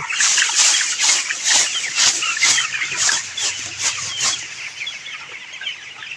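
Chickens cluck and call steadily in a poultry shed holding birds about twenty-two days old, with rain-dampened litter, a dense close flock chorus that stays loud throughout and fades slightly toward the end.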